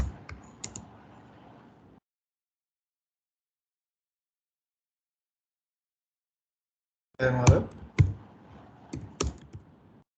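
Fingers type on a computer keyboard while writing code, with a short burst of clattering keys, several seconds of silence, then a second, louder flurry of taps.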